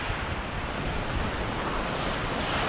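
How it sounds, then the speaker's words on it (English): Steady, loud wind roaring at the coast at Cape Parry National Park, blending with surf and buffeting the microphone without pause, with no talking. "The wind's up a bit at the moment"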